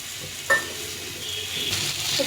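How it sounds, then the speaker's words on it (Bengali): Mixed vegetables fry in a pan with a turmeric, salt and dried chilli paste, a steady close sizzle with a sharp hiss as the liquid paste goes in and a scrape of stirring. "দিয়ে ভালো করে সবজির সঙ্গে কষিয়ে নেব"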